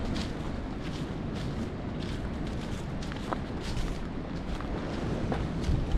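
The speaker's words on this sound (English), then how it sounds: "Some big wind gusts coming through." Strong wind gusts buffeting a muddy woodland path on the way to a Connecticut waterfall, a steady close roar of rushing wind and microphone buffeting with no one speaking.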